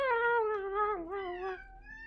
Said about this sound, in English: That meow does not sound happy